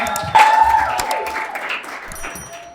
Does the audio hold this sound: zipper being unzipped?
no